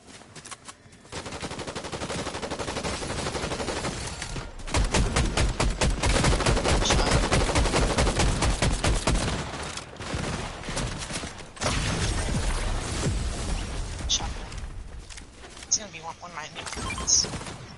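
Automatic weapon fire in a shooting video game, long loud bursts of rapid shots with brief pauses between them, and voices talking over the shooting.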